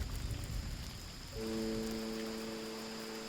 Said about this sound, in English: the first rain in months